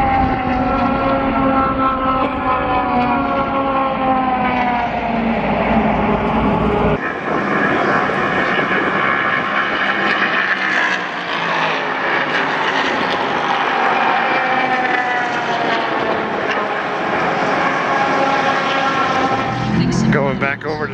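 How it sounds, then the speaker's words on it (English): Race cars roar past at Daytona International Speedway during the Roar Before the Rolex 24, a loud sustained engine whine rising and falling as they pass, with talk over it. "The cars going by."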